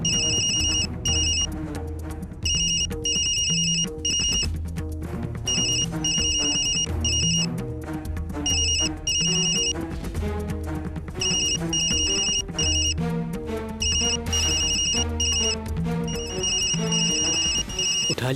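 A phone rings with a repeating electronic ringtone melody in regular bursts, loud and close, and it continues alone for the whole stretch with no talk.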